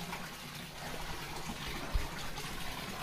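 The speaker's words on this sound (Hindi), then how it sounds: "of water that comes out from an opening inside a rock" Water trickling from an opening inside a rock in a cave garden in Cherrapunji, Meghalaya: a steady, soft wash of flowing water with no voices.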